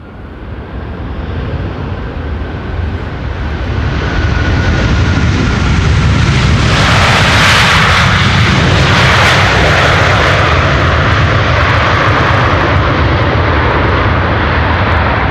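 A Boeing 747 jet arriving at Amsterdam Schiphol Airport on a windy day, a loud engine roar that swells steadily as it approaches and then holds at full strength overhead.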